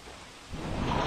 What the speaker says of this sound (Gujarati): વલસાડ જિલ્લામાં વહેલી સવારથી જ ભારે વરસાદ વરસી રહ્યો છે